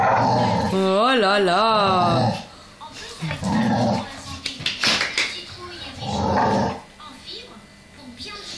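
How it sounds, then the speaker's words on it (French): A dog growls and grumbles in bursts while a person talks nearby, the sounds alternating and overlapping. "le chien méchant"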